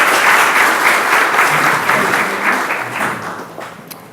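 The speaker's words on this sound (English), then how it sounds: "Give her a round of applause" At a youth enrichment program luncheon, an audience claps for a student speaker coming up, a loud, close burst of applause that gradually thins and fades near the end.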